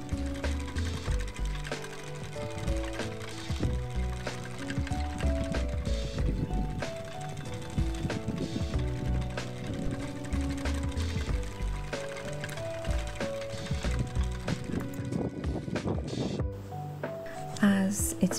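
Spinning wheel spinning wool yarn in the grease, a steady rhythmic mechanical clicking and whirring that continues throughout, with a voice talking over it.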